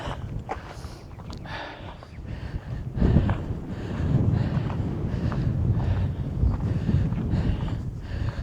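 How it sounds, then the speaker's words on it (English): Heavy wind on a trail in Kingman, Arizona buffets the microphone in a continuous low rumble, with faint scuffing underneath and no clear speech. "because it's so windy, I have no idea what kind of sound quality you're getting"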